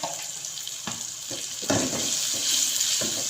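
Water poured into a hot pan of whole spices and dried coriander, splashing, hissing and sizzling up close, growing louder midway.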